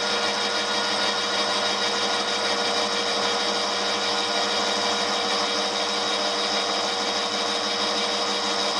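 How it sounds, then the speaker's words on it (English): Steady whine of a lathe turning down a motorcycle ball mount for a Honda CBR, a constant loud machining drone with no pauses. "I'll just lathe this down here a little bit"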